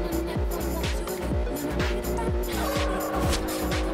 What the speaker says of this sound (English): this thing sounds like a V6, but this thing is a transit diesel